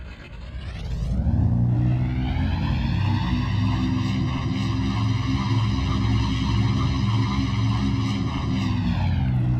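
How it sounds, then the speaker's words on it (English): Convair CV-240 propeller airliner engines in Flight Simulator X spool up and hold at full throttle, a loud, steady droning roar with layered tonal hum throughout. "I'm going to go ahead and throttle it up to full throttle really quick"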